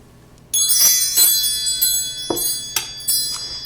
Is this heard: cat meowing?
no